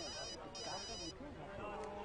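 A telephone rings with a bright, repeating electronic ringtone during a scene in the Hindi film Masaan. The tones sound through the first half under steady conversation, then fade while the talk continues.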